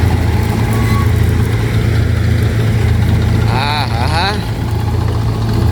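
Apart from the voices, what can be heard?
tractor engine idling on a farm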